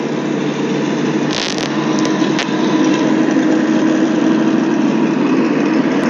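A diesel generator plant runs beside a tent, a loud steady engine drone with a constant low hum and a few brief clicks and knocks on top.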